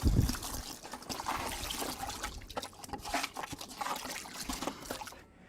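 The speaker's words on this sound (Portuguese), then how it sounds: "agora nós vamos fazer a diluição dele em água, com meio litro de água, um pouquinho mais" Burnt lime is diluted in about half a litre of water, heard as close splashing and trickling liquid that stays steady for a few seconds and then stops abruptly.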